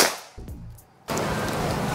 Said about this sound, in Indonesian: tembakan yang kedua